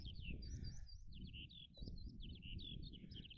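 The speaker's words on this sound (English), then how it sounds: "You hear the birds chirping away." Birds chirp and trill steadily in repeated bursts on Conic Hill above Loch Lomond, heard near and clear over a constant low rumble of wind or handling noise.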